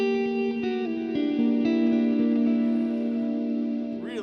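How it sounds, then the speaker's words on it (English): A guitar drenched in reverb plays sustained, ringing notes, each one blooming into a long, smeared tail that hangs in the air as the melody moves; the effect stays steady and fairly loud throughout. "I'm going to turn off the reverb here."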